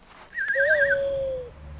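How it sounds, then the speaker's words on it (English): An owl called in a video game gives a close, clear whistling hoot, a warbling rising note that slides into a longer steady tone, alone and brief. "So let's call in an owl."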